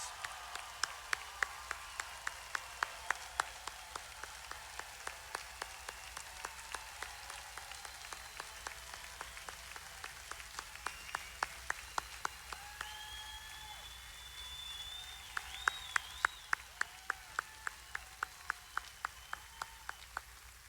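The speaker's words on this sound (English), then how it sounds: "giving all those officers that are here today a big round of applause" Applause from a large outdoor campaign rally crowd in Concord, North Carolina, for police officers: a faint, distant, continuous patter of many hands, with sharp clicks recurring through it.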